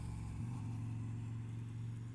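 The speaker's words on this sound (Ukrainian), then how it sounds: "То їзда мопеда, звісно." A moped riding in first gear drones steadily with a low, close engine hum that rises slightly in pitch partway through.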